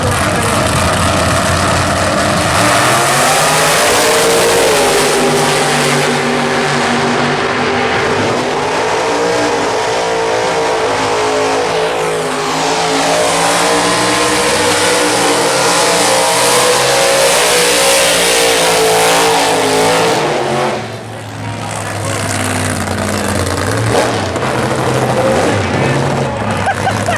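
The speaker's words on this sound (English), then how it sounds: "That, kids, is an 8th mile burnout." A Pontiac drag car at the 2022 Pontiac Nationals, Summit Motorsports Park, roars through an eighth-mile burnout, its engine screaming loud and sustained with wavering revs and a brief dip near the end before surging again.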